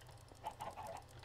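Chickens cluck softly in Minecraft, a few short calls in a quick run over a low steady background hum, faint and with no talking.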